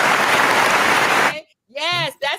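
An audience claps at a soul line dance gathering in a dense, fairly close burst that stops abruptly, and a voice then speaks.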